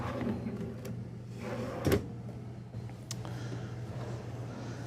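Pull-out drawers inside a 2023 Newmar Essex 4551 motorhome slide and thump shut, with a few soft knocks and one louder bump over a low interior hum.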